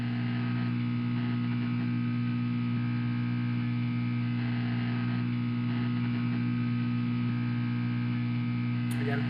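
A steady electrical hum with strong low tonal bands runs unbroken as an elevator rises in the video game Liminal Core, with a brief click near the end and no voices.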